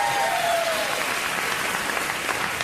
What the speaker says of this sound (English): every time you mention them, they applaud themselves.